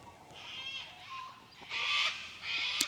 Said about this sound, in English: That's a big bird, that one.